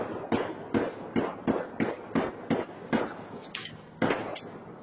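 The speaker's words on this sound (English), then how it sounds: "You can hear the gunfire." A rapid series of gunshots in a Chicago suburb during a rolling shootout cracks out, about a dozen sharp reports in uneven succession, echoing at a moderate distance.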